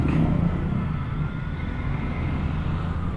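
Road traffic heard while riding a Hero Xoom 110 scooter is a dense, steady rumble of engines and wind noise, loud and unbroken for a few seconds.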